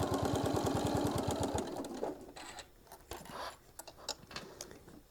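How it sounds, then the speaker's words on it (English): A sewing machine stitches around a small travel case for a mini iron with a fast, steady rapid-fire whir for about two seconds. It then slows and stops, leaving light clicks and handling sounds, close up. "we're just going to slowly just start stitching all the way around"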